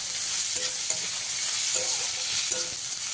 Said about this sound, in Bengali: এবারে পেঁয়াজটা দিয়ে পেঁয়াজটাকে হালকা লালচে করে ভেজে নিতে হবে।